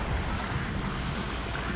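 A sailboat motoring at sea on the Bay of Biscay with the wind dropped, a constant broad rush of engine, water and wind noise blended together, steady and fairly loud.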